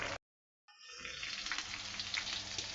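Fish curry sizzling in a pan over a gas flame: a brief loud burst, a sudden gap of silence, then a steady faint hissing sizzle that carries on to the end.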